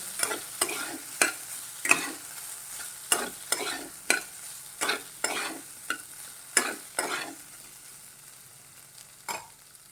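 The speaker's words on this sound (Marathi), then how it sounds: "गॅस आपण मध्यम करूया आणि पाच मिनटं बटाटा परतून घेऊया" Potatoes are sautéed in a pan over a medium gas flame, with a soft steady sizzle and a regular series of scraping spatula strokes, about one every half second, close by with no talk.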